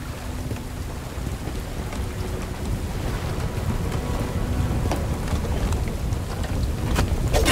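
Steady rain hisses throughout a stormy level of the shooter Bright Memory: Infinite, with low rumbling beneath it and scattered sharp drops or ticks. The downpour stays constant and fairly loud from start to finish, and no one speaks.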